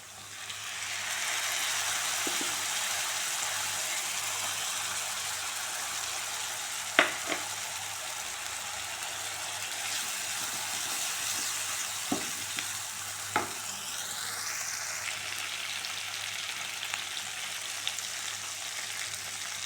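Bread chilli stir-frying in a pan with tomato and soy sauce, a steady loud sizzle with scraping stir strokes and a few sharp clinks of the utensil against the pan, heard alone without talk.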